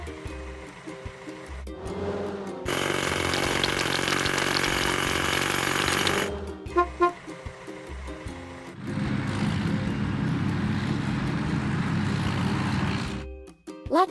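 An excavator's hydraulic hammer pounds big rocks with a loud sustained rattling roar, stopping for a moment with a few knocks before a second long, heavy burst of hammering.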